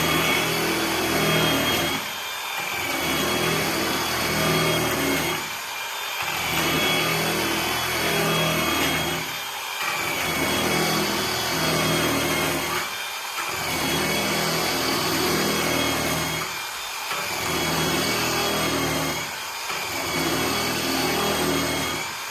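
Handheld power tool with a grinding wheel texturing metal, whirring loudly in repeated bursts of a few seconds each, separated by brief drops as the tool eases off, steady rhythm throughout with no talk.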